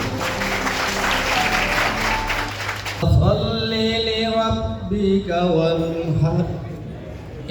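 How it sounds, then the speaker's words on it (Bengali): An audience at a prize-giving and education-supplies distribution ceremony in Rangamati claps loudly. The applause fills the first three seconds, then a voice speaks through amplification over a sustained tonal background. "সকলের থেকে একটি জোরে করতালি আশা করছি"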